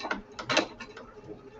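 A sewing machine stitches a placemat made from a dish mat and fabric strips, its motor and needle mechanism whirring and clicking in short uneven bursts up close, fairly quiet with no talk.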